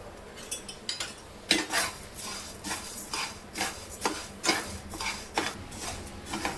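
Moong dal and rice are dry roasted with wheat in a pan, producing rhythmic scraping and clinking of a spoon against metal, repeated stirring strokes at a steady pace, close and fairly clear.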